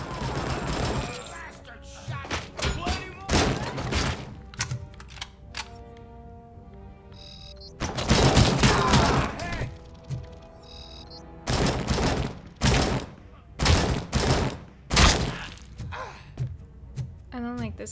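Gunfire in the RoboCop Rogue City video game, several loud bursts of shots in separate clusters with quiet gaps between, mixed with game sounds and some voices.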